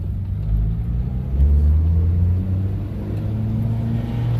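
An electrified Renault Dauphine accelerates through first and second gears, a steady low rumble rising and dipping, close and continuous.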